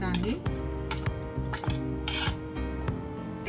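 Onion and ground chilli, garlic, coriander and cumin masala being mixed in a bowl, with steady scraping and rubbing strokes and a few sharp clinks of a utensil against the bowl, close up, with music running underneath.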